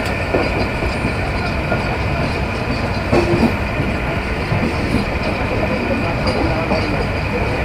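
Banalata Express passenger train on the Dhaka to Rajshahi run, a steady loud rumble of carriages rolling over track with faint rhythmic wheel clatter, heard from on board throughout with no one talking.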